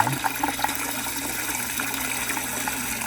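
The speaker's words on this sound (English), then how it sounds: "So now we got water coming in." Water gushes steadily into a fill and drain tank, a loud, continuous rushing and splashing flow with no talking.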